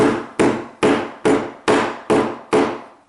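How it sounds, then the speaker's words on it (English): Seven evenly spaced, sharp hammer blows pack oil-bonded casting sand (Petrobond/Delft) into a mould, each loud thud ringing briefly before the next, close by with no voices. "it's the hammering that compacts the sand"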